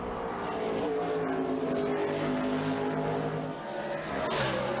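A 2006 NASCAR stock car, Kevin Harvick's, roars off the final turn at Watkins Glen, a loud sustained engine drone that rises and swells as it accelerates, with the broad wash of a racetrack around it.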